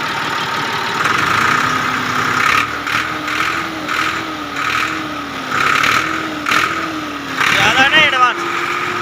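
A diesel tractor engine runs at a steady idle in a diesel workshop, with a low continuous throb and people talking over it throughout.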